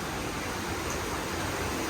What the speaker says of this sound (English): And it's just full of water coming out of here.